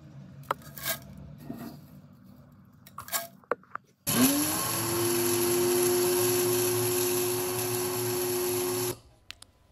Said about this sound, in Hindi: इन दोनों सामग्रियों को आप मिक्सी के जार में डाल के पीस लीजिए